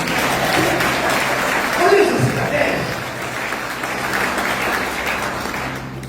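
A congregation applauds during a church sermon, with steady crowd clapping running underneath a man's excited spoken words throughout and a brief chuckle near the middle.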